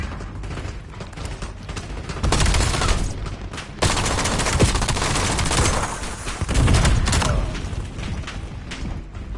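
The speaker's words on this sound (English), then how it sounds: "This is a shotgun." Gunfire in the Call of Duty Black Ops 7 campaign, loud heavy blasts with mechanical clatter and a dense, noisy battle backdrop throughout.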